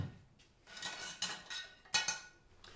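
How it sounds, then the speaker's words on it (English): Fork stirring dark orange agave syrup in a dish, giving soft scraping clinks of metal against the dish in a short irregular run, close and fairly quiet, with a couple of brighter taps near the end. "With a fork, give it a nice little stir, yeah?"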